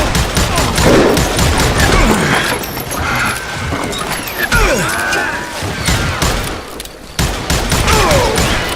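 Rapid bursts of gunfire in the Western shooter game Call of Juarez Gunslinger, loud and dense with overlapping shots, echoing crashes and brief lulls, like a running gunfight.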